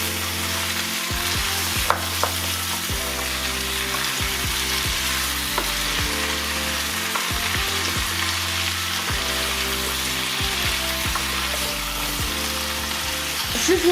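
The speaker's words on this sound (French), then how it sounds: "Et les pommes de terre également. Je viens mélanger un petit peu." Potatoes fry with a soft steady sizzle while being stirred in a cooking pan, a low tonal hum running underneath with a few light clinks of a utensil.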